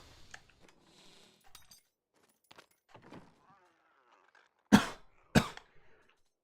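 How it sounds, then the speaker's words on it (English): A person coughs twice, sharp and loud bursts close together, following scattered faint clicks and quiet murmured speech. "Can I stop coughing, please?"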